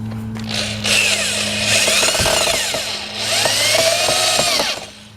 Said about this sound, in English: now the screws go in